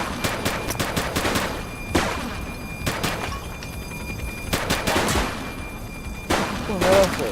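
Rapid bursts of gunfire in the police video game The Precinct, repeated cracking volleys in clusters over several seconds, fairly close, with game ambience between bursts.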